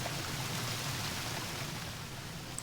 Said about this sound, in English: Really loud water.